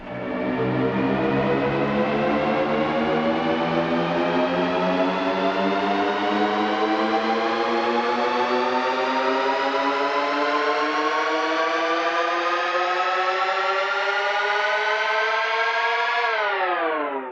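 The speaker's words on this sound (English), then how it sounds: "you essentially just built a riser from nothing" A synth riser built from nothing with the Filterverse plugin, a dense, buzzing stack of harmonic tones sweeping steadily upward for about sixteen seconds before cutting off abruptly.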